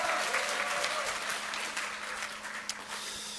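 Lecture audience clapping at a political talk, a dense burst of applause that starts strong and gradually thins and fades, with a few scattered claps near the end and a faint steady hum beneath.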